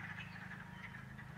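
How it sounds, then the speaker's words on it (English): Wood frogs call outdoors in a continuous, rasping chorus of clucking croaks, faint and distant, with a low hum of the outdoor surroundings beneath. "hearing the wood frogs in the background."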